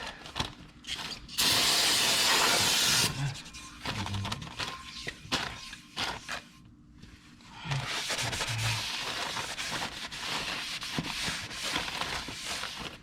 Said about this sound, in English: So once you get it out with a brake cleaner, you just give it a good rub.